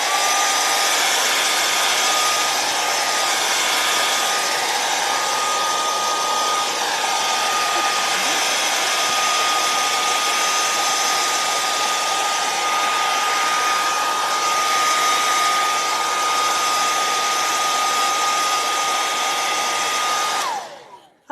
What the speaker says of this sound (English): what I'm going to do next is hit it with a blow dryer